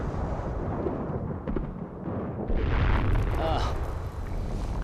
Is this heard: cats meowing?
no